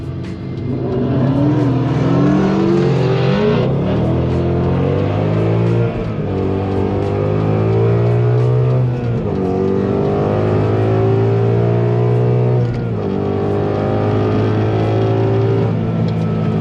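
A stock Volvo V60 Polestar launches in first gear and accelerates hard, its engine climbing loud and close through rising revs with shifts between gears over a sustained run.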